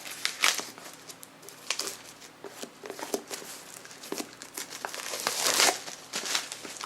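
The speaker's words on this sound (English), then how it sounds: "I'm taking the plastic off in a very sexy way." Plastic wrap crinkles and tears as it is peeled off an Alice Cooper CD box set, a close, irregular run of crackling rustles with soft handling bumps and no talking.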